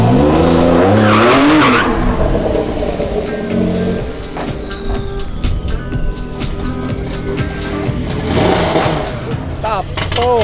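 A modified Porsche accelerates hard in a street drag race, its engine roaring loud and close over squealing tires, with gear changes and rising revs throughout and voices shouting nearby.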